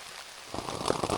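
Heavy rain falls on a tent at Provoking Lake in Algonquin, a soft hiss that swells into denser patter partway through, fairly quiet overall.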